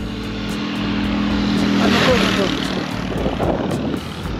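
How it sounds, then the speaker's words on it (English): A motorbike approaches along a road in rural Morocco, its engine hum swelling louder as it nears and then easing slightly, heard from the roadside under steady ambient noise. "There's a motorbike coming."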